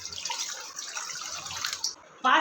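Water poured into soaked lentils in a wet grinder jar, a continuous close splashing trickle that stops briefly before a louder final gush.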